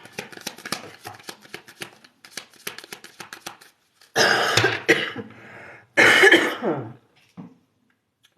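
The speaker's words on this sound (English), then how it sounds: "I'm not smoking and coughing. It's the fucking incense." Two loud, harsh coughing bursts from a person choking on incense smoke, preceded by soft tapping and rustling and followed by a faint throat sound, recorded close in a quiet room.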